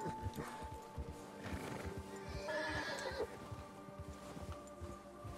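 A horse in Red Dead Redemption 2 neighs loudly partway through while hooves clip-clop in a steady galloping rhythm, with no talking.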